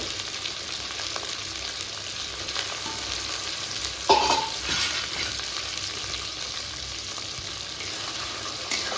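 Catfish pieces fry in oil spiced with salt and turmeric, a loud continuous hiss and crackle with a sharper spit or clatter near the middle.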